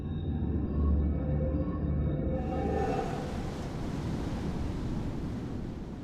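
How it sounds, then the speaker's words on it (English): Ocean waves breaking on the steep reef ringing Flint Island, a volcanic Pacific island: a steady, close roar of surf with broadband wash and wind, a low tonal hum early on fading as the churning surge continues. "the waves are breaking right there"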